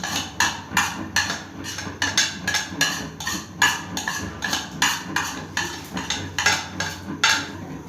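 A spoon clinks rhythmically against a bowl while mixing Spanish omelette ingredients, fried boiled potatoes, fried onion, black pepper and salt, in quick regular strokes, close and clear with no talk.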